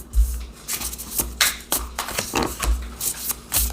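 Tarot cards being shuffled by hand, a run of quick papery riffles and slaps at close range with uneven bursts and brief pauses between them.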